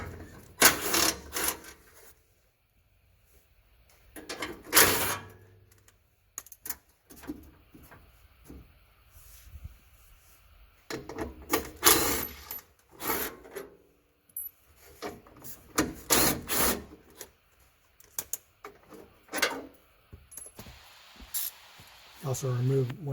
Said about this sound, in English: Next, you have to remove these 4 bolts holding the heat shield for the muffler as well as the muffler bracket itself.